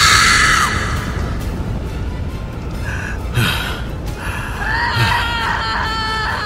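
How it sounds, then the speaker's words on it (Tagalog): Women shriek and gasp in a dramatized Filipino aswang horror tale, several loud, high, wavering cries that rise and fall over a noisy, rumbling background. "Oo, mga babae, tumitili."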